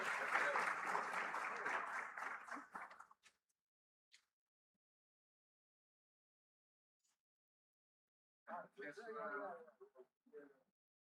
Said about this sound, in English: Please, a round of applause for the panelists one more time.